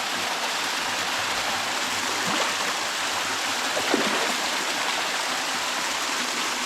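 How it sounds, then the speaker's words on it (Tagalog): A creek flows steadily beside a fish pond where eggplant is being planted, a continuous close rush of running water with no talk over it. "yung sapa na rin oh."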